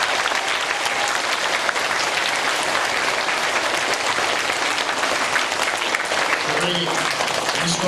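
Audience applause for a school music teacher at a Music In Our Schools Week event in the Bakersfield City School District, a dense, steady clapping that holds loud and even for the whole stretch, with a voice surfacing faintly near the end.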